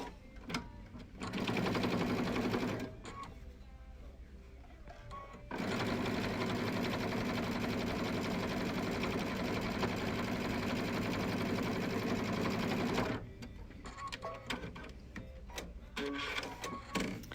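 Domestic sewing machine running a long straight stitch across the bottom of a fabric face mask, with steady loud motor whir and needle chatter in two sustained bursts separated by short pauses and handling noise.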